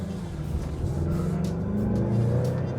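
A 2021 Mazda CX-5 GT SP with a 2.5 litre turbo engine is driven, its steady engine drone and road rumble heard from inside the car, swelling slightly toward the end.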